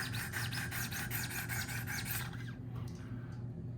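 A sharpening stone on a Wicked Edge guided sharpener rasps rhythmically along the bevel of an S90V steel Spyderco Shaman knife, with steady close strokes that fade out near the end.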